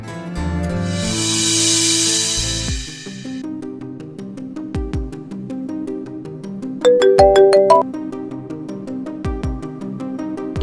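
Phone notification tones from a neighbourhood group chat, a bright chime-like ringtone melody pinging repeatedly over several seconds, loud and close with no talk.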